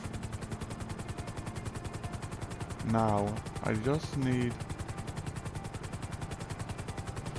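Steady rapid chopping of a helicopter's rotor in Grand Theft Auto V Online runs throughout, with someone briefly speaking in the middle.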